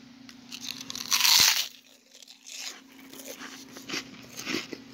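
Tom's pork skins crunched up close, one loud crisp bite followed by softer crackling chews and crinkling, over a faint steady hum.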